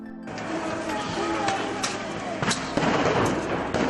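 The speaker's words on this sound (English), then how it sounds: "attempting to defend themselves with fireworks and Molotov cocktails." Fireworks set off by protesters during Euromaidan street clashes in Ukraine, heard as sharp bangs and crackles at about 1.5, 1.9, 2.5 and 2.8 seconds over a loud, continuous crowd roar with shouting voices throughout.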